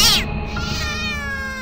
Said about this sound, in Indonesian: terdengar suara kucing bersahutan sangat keras